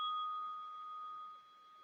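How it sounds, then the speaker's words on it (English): A small hand bell rings out once and its clear tone sustains for nearly two seconds, slowly fading, with no talking over it. "Can you hear the bell?"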